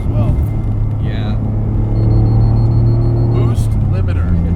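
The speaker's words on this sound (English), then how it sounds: "Boost limiter. We've achieved it." A modified 1995 Mitsubishi 3000GT VR4 twin-turbo engine pulls hard, then hits the boost limiter as a loud droning rumble from inside the cabin, with a brief voice over it.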